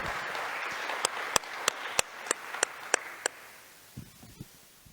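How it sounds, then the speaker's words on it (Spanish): A church congregation claps in a faint, diffuse wash, while a single sharp, steady clap rings out near and loud about every third of a second, then fades into quiet. "Dan un aplauso fuerte al Señor."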